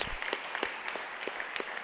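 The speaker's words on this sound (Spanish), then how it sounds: "Merecen un aplauso todos ustedes, de todos los partidos." An audience applauds during a lecture-style discussion on feminicidal violence, producing steady, fairly faint clapping with scattered sharper claps throughout and no voices.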